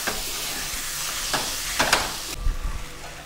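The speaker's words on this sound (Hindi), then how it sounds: "ग्राइंड किया हुआ मटर ऐड करेंगे। 2 से 3 मिनट तक अच्छी तरह भून के लेंगे।" Ground green peas with garam masala and turmeric roast in a pan, a continuous hissing sizzle broken by several louder scraping stirs near the end.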